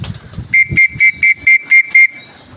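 A loud whistle is blown to call racing pigeons during training, with seven short, evenly spaced blasts close by and faint outdoor background sound.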